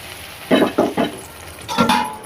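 Four eggs are cracked into a pan of ponnaganti greens curry, with several short bursts of sizzling and stirring over a steady background hiss.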